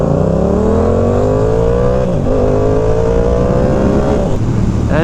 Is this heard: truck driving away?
yes